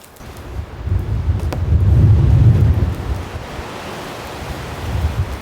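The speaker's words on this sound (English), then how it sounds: "these gusts are coming in" Strong snowstorm wind roars across the microphone at a winter campsite in rising and falling gusts, loudest in the middle, with no talking.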